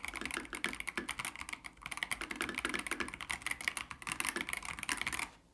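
Brisk typing on a Cool Killer 98 mechanical keyboard, rapid close clacking keystrokes in bursts with brief pauses, ending abruptly, no talking.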